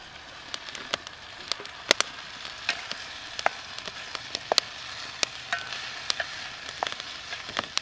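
Onions and sweet peppers stir-frying in a small pan on a Bush Box XL stove. A soft, steady hiss runs under scattered sharp crackles and pops, fairly faint and close, with no talking.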